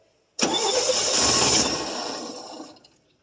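A 1966 GMC inline-six engine, first started in at least two years, bursts to life with a sudden loud roar that holds briefly and then gradually fades away, with no voices over it.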